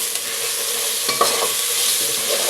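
Biryani masala, coriander, cumin powder and garam masala get stirred into a hot pan for egg biryani, with a steady close sizzle of frying and a few soft scrapes and taps of the spoon against the pan.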